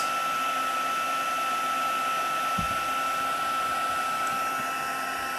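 A heat tool blows with a steady, loud electric whir, like a hair dryer, as it melts black embossing powder, running unbroken throughout.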